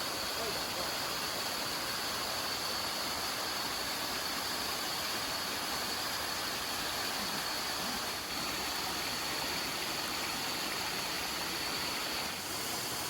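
Aek Enim waterfall, a multi-tiered fall about 50 meters high in a hidden ravine, roars as a constant, dense wash of falling water, loud and unbroken throughout.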